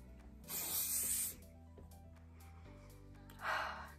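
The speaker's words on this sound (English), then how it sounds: "then I'll go in with the VO5 Invisible Extra Firm Hold Hairspray" Two short hissing bursts of VO5 coconut-scented extra firm hold hairspray, close to the mic, the first lasting about a second and the second briefer, over a faint background hum.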